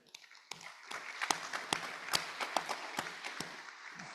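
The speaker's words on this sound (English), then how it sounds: "Big round of applause." A small audience at a Rotary Club meeting gives a light, scattered round of applause, individual claps standing out distinctly and fairly close, building briefly then thinning.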